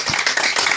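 Congregation clapping at a Sunday prophetic and deliverance church service, a brief dense burst of many hands clapping together, loud and close.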